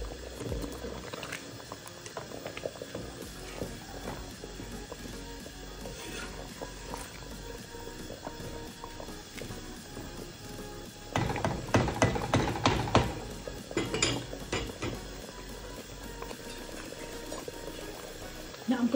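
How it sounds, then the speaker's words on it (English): Steak and potato pie filling with potatoes, flour-thickened liquid and water simmers in a pot on low heat, giving a steady soft bubbling throughout, with a louder burst of bubbling and clinks partway through. "Now I'm going to leave that on a low heat to simmer for about an hour."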